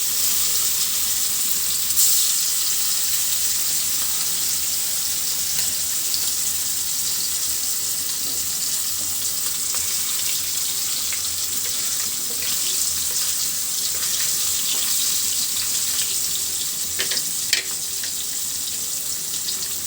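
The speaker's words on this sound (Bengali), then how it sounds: "একদম লাল লাল করে ভাজি করে নেব।" Pieces of fish frying in hot oil, a steady, dense sizzle that carries on without a break for the whole stretch. The bubbling is close and even, with small crackles now and then and no talking over it.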